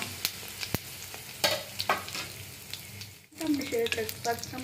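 Cumin seeds and curry leaves spluttering in hot oil for an okra and potato upkari, with crackling pops and sharp spatula taps up close, a voice speaking briefly at moments.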